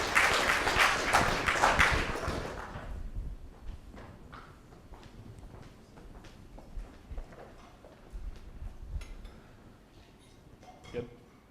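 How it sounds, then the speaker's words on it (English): Audience applause at a business pitch competition, dense clapping for about two seconds that fades into scattered claps, footsteps and light clinks in the room. "let's give them a round of applause, guys."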